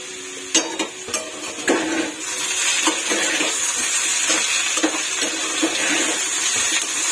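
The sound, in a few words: stirring potatoes frying in a pan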